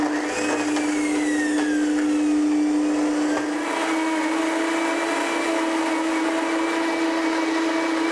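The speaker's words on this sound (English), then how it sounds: "You have a very, very finely ground pesto sauce in under a minute." A blender grinds pesto sauce at high speed, a loud, steady whirring motor drone with a faint rising pitch sweep early on, running continuously with no speech.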